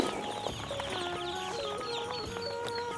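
Khaki Campbell ducklings on a farm of 800 ducks peep busily in a dense, continuous chorus of high, thin chirps, close and steady throughout, with no talking.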